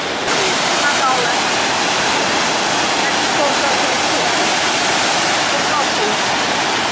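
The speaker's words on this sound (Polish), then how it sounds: "A obok drugi wodospad. Norwegia, kraj wodospadów." A waterfall in Norway, seen from a railed path beside the falls, roaring as a loud, constant broadband rush of falling water with no breaks, close by and filling the whole stretch.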